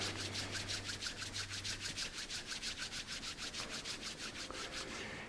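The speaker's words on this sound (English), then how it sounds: "You can rub your hands together, generating heat." Palms rubbed briskly together to build warmth during a qigong exercise, giving a steady, close swishing friction in fast rhythmic strokes that carries on throughout, with no talking.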